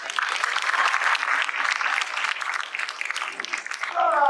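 Sustained applause from a theater audience at a comedy stage show, steady and dense throughout, with a brief rise in intensity near the end.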